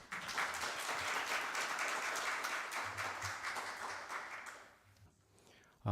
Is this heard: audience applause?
yes